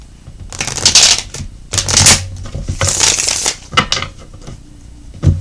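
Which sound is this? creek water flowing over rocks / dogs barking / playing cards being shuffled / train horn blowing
playing cards being shuffled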